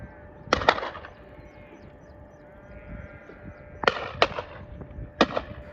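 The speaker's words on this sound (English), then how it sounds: "I was a little surprised to hear a lot of gunfire" Shotgun fire at the Harbour Rocks Clay Pigeon Shooting Club: sharp cracking reports, mostly in quick pairs, ring out several times at moderate distance across a quiet outdoor background.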